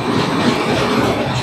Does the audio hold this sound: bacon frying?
no